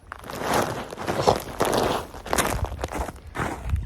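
Footsteps crunch along at a steady walking pace, close by, with a few louder scuffs mixed in and no talking.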